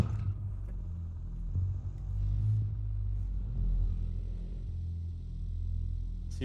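Low, steady engine rumble from a Dacia car driving in the BeamNG video game, a continuous droning hum with mild swells, with no talking over it.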